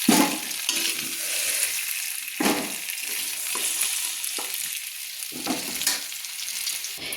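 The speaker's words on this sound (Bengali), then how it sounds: "দেখুন আমার আলুগুলো লাল লাল করে ভাজা হয়ে গেছে।" Potato pieces fry to a reddish-brown in a pan with a steady, hissing sizzle, broken every second or so by the louder scrape and rush of the pieces being stirred.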